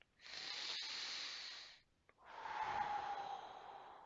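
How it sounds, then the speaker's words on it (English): A big breath drawn in and let out, two long airy breaths close to the mic with a short pause between, the exhale softer and slightly voiced, no talk. "Take a big breath in and out."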